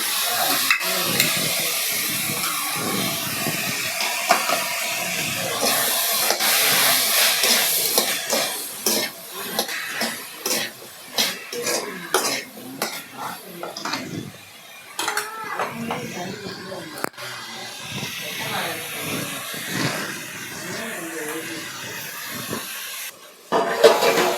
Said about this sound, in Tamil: கத்திரிக்காய் வதங்குது